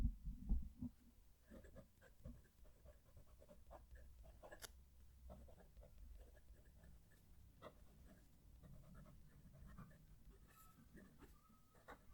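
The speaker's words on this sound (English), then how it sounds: "There is some texture to this paper, you can hear that when it's writing, but the nib is fairly smooth." A fountain pen nib writes on textured paper, recorded very close, with quiet soft scratches and strokes that come irregularly under a low background hum.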